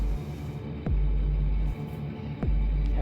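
Vacuum cleaner running indoors in a home, a loud continuous low drone with a steady hum that briefly drops and resumes twice, close by with no talk over it.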